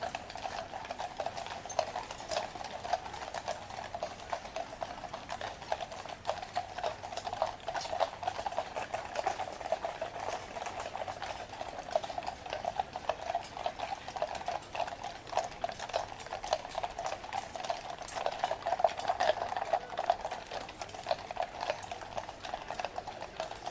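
Hooves of Household Cavalry troop horses walking from Horse Guards toward Buckingham Palace, a steady mass of overlapping clip-clops on pavement, moderately distant and continuous throughout with no talk.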